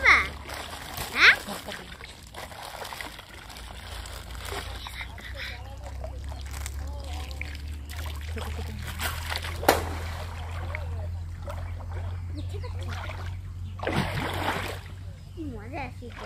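Water splashing and trickling as hands and feet are washed outdoors, light intermittent splashes over a steady low rumble, with children's voices talking nearby.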